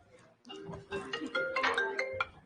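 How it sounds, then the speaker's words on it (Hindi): A mobile phone rings with a melodic ringtone in a classroom, a bright tonal tune rising after a short lead-in and carrying on over low background voices. "केके का फोन आ रहा है"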